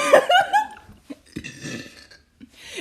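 A loud, deep human burp opens, followed by several shorter, lower belches and gulping sounds spaced out over the next couple of seconds.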